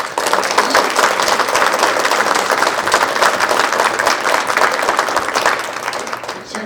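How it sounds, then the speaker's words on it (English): Loud, dense audience applause after a lecture on religion, race and democracy, steady and sustained with no speech over it before tapering slightly at the end. "Please join me in a round of applause."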